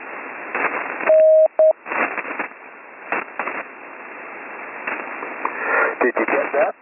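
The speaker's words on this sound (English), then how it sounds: "Now, just have a go with these letters I'm going to transmit in Morse code." A Morse code tone beeps one long dash followed by a short dot, sharp and clear, while someone talks before and after the signal.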